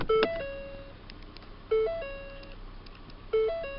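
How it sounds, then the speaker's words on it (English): A soft electronic door-open warning chime from a 2017 Ford Fiesta repeats three times at a steady interval, each a short two-tone pattern that rings briefly and fades. "That's the noise you get when you open the door."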